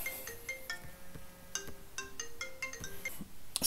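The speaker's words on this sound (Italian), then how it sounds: "mi era suonato il cellulare proprio durante il tutorial" A mobile phone plays a melodic electronic ringtone, a repeating pattern of bright tones, fairly faint and heard alone in a quiet room.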